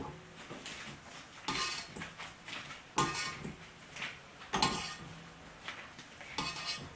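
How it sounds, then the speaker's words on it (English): A stick of butter being cut into small squares on a kitchen surface, with a run of light, close knife taps and clinks against the board or dish. "to add the butter, you'll want to cut it up into small squares"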